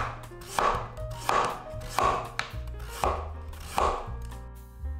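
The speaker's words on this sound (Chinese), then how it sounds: "然后把南瓜肉切片。" A knife slicing peeled, deseeded pumpkin flesh on a board, five evenly spaced crisp chops about every second, close and clear with no voices.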